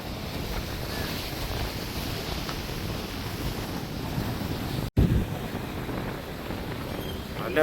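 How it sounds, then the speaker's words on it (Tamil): Strong wind at a seashore harbour buffets the microphone in a constant roar, mixed with crashing surf; a brief dropout occurs midway, no voices. "கடும் மோசமாக இருக்குது காற்று"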